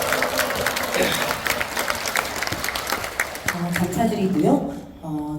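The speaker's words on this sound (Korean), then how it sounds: "오늘 참석, 참석하신 모든 분들께 응원의 박수 한번 네, 써주세요" An audience in a large auditorium hall at a singing contest claps in dense, continuous applause, with voices and a singer's brief vocalizing mixed in toward the end.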